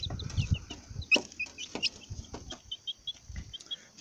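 Hens cluck in short irregular bursts at close range during morning feeding on a farm, with soft scuffling and shuffling noises between the calls.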